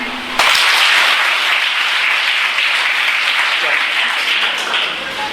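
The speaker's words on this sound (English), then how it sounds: "Clap once." A group of students at SN Vidya Mandir in Kannur clap together in class, making a dense, loud burst of applause that starts abruptly and holds steady for about five seconds.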